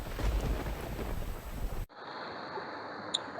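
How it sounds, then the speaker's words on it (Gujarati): Rain falls in Banaskantha, Gujarat, near a flooded service road at Thara, a dense, loud hiss that cuts abruptly partway through to a quieter, thinner wash of rain. "બનાસકાંઠામાં મોડી રાતથી વરસાદની શરૂઆત થઈ હતી"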